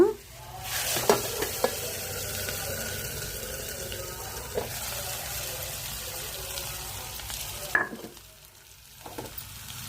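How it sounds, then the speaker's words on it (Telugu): A hot tempering of spices is poured into a chana dal and coconut curry, giving a steady loud sizzle and crackle that settles into a constant hiss for several seconds, with occasional stirring clinks. "వేగింది కదండి పోపు వేసేద్దాము"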